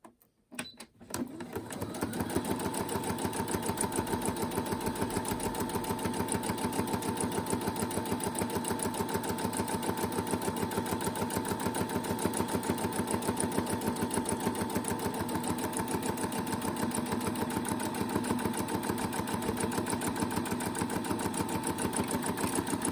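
A sewing machine runs continuously, stitching down the length of a folded fabric tube for a button headband, its rapid needle chatter steady and close after a brief start, with no talking.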